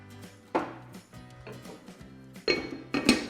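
Clinking and scraping of metal cookware, a few sharp knocks and rattles as rice is tipped into a pot of meat broth, close by with no talk.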